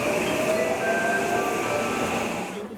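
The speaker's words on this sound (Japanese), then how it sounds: "乗ってきた区間快速を見送ると201系が入ってきました" A JR 201 series train pulls into Shin-Imamiya station, a steady loud rumble of rolling rail cars with thin tonal whines and squeals above it, fading slightly toward the end.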